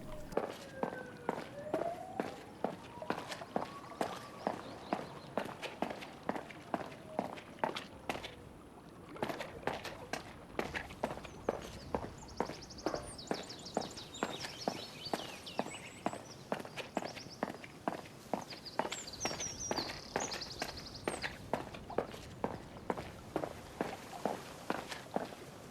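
Steady video game footsteps walk at an even pace through a city, each step sharp and echoing off nearby walls, with faint ambient sounds in the background.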